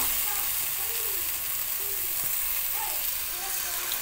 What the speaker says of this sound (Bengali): এখন এর মধ্যে আমি টক দইটা দিয়ে দিচ্ছি।